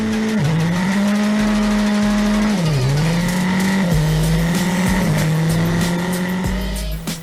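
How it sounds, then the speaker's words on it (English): Indian Formula 4 race cars launch from a standing start at a circuit in Coimbatore, a loud high-revving engine drone held near steady, dipping briefly at each gear change, close and continuous with other cars around. "The 5 red lights will go off and we're racing in Coimbatore."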